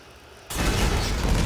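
A sudden loud explosion in the video game Black Mesa bursts in after a quiet moment, then a broad roaring rumble sustains at full strength without any talk.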